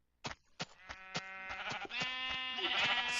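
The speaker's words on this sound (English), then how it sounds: "Sheep." Minecraft sheep bleat in a few sharp, close calls with a steady pause between them, then one long wavering bleat that carries to the end.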